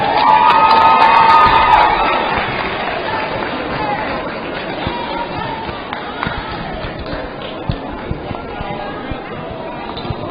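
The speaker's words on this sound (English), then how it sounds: "parents give your seniors a round of applause." High school basketball gym crowd cheering and shouting for the seniors, a loud burst of whoops and chatter at the start that settles into a lower, steady murmur with scattered shouts and claps.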